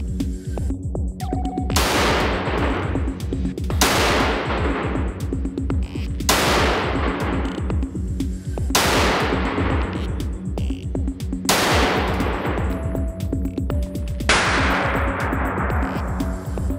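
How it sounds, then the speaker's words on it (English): Repeated 7.62mm rifle rounds strike a Dyneema protective armor insert, six sharp loud impacts spaced roughly two seconds apart over a steady low mechanical hum, each shot ringing briefly before fading. "this is a protective insert made with Dyneema being shot with"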